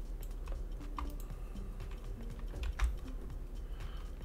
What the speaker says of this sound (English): So now we want to hit V on our keyboard and make the selection